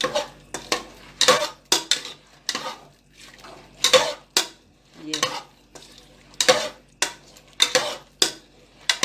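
Onions are stirred round in a cooking pot, giving repeated loud scrapes and clinks of the utensil against the metal in an uneven rhythm, with a soft fry between strokes and no talking.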